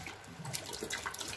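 Hot water is poured into a bowl to soak garri for an Edo-style yam and owo meal, a short, close sloshing trickle with quick splashy bursts.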